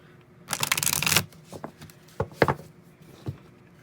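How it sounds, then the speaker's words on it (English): Tarot cards riffle-shuffled in a loud, dense burst, followed by a few softer taps and slides of cards being squared and handled. "bear with me while I shuffle these cards"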